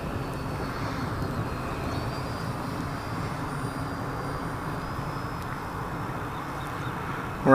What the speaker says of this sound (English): This is a fantastic flying little EDF.